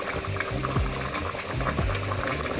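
Mutton curry bubbling with green masala paste stirred in: dense steady sizzling and thick bubbling throughout, close up, with low rhythmic stirring pulses underneath and no talking.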